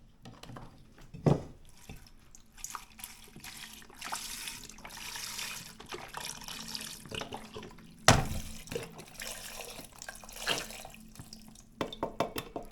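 Vegetable broth pours from a container into a pot as a cooking base, a faint, uneven trickle and splash with a few louder clunks near the start and middle.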